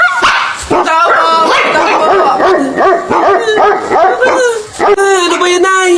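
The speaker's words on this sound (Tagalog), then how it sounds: "Nakakatakot naman yung mga tahol na aso." Several dogs bark and yelp in a comic animated story, loud overlapping barks and whines filling the scene continuously.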